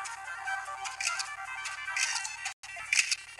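A phone ringtone plays as a faint, repeating electronic melody in short bursts, with a brief cut in the middle.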